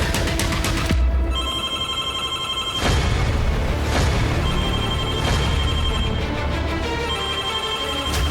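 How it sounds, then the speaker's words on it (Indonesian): A mobile phone rings with steady, repeating electronic tones over a loud, busy background of crowd noise and low rumbles, lasting through most of the stretch. "HP-nya bunyi."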